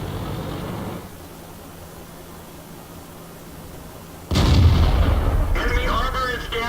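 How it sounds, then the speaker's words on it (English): An M18 Hellcat tank destroyer's cannon fires in World of Tanks: one loud, sharp boom midway through, then a rumbling tail, with faint voice-like sounds near the end. "some nice cross country shooting"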